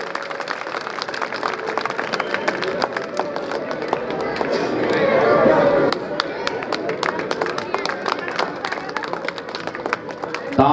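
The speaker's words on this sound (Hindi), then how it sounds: "बढ़ाएं जोरदार तालियों के गड़गड़ाहट के साथ" Audience at a community award ceremony in Kishangarh claps for an honoured student, scattered hand claps and crowd murmur that swell briefly midway, with voices talking over them.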